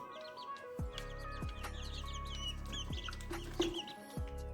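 A rooster clucks inside a coop, giving several low, drawn-out clucks at a steady pace. The sound is quiet, with faint scratchy background noise around it.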